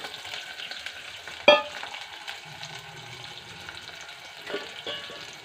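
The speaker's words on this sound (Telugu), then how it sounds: "ఇప్పుడు అందులో అయితే గ్రీన్ చిల్లీ, ఆనియన్స్ వేసింది" Green chillies and onions frying as a tempering in a pan, giving a soft, steady sizzle with one sharp clink and a faint later knock, quiet and close with no talking.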